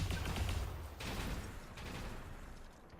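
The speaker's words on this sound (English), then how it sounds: "we're going to open up on him with the auto cannons here" Autocannons firing at an enemy mech in the video game BattleTech, a faint, rumbling barrage of overlapping heavy shots rolling on for a few seconds.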